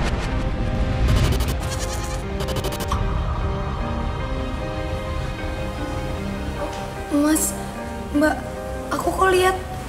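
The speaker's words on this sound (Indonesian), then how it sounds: "Ada dua domba ya?" Sheep bleat repeatedly, loud and close, amid a busy dramatized scene with music and effects, the wavering cries rising clearly in the final seconds.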